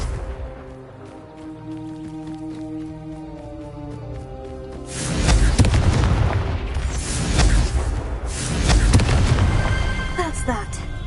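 A Confringo explosive spell in Hogwarts Legacy sets off loud, booming bursts, two big rumbling waves that rise after a quieter musical stretch and hold for several seconds.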